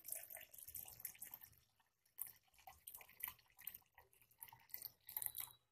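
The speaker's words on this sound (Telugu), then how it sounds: "మీగడ మునిగేట్టుగా వాటర్ పోసుకుందాం." Water poured into a juicer jar of a mixer grinder over cream for homemade ghee, heard as uneven splashing and trickling bursts with a short pause midway, fairly faint and close.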